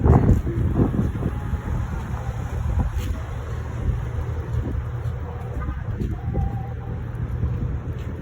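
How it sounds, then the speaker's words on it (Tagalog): Wind blows steadily outside San Marcos Premium Outlets, a mall in San Marcos, Texas: a loud continuous rush buffeting the microphone for several seconds. "Mahangin talaga sa labas, mahangin eh."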